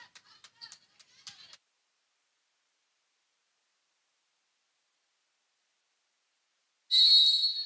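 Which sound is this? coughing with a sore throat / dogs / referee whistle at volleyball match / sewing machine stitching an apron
referee whistle at volleyball match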